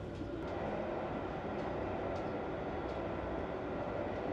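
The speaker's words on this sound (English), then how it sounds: "we pass through a train yard of some kind" A steady, rumbling roar heard aboard a sleeper train from Montreal to Halifax as it rolls through a rail yard, with faint metallic squeaks and clanks over the continuous noise.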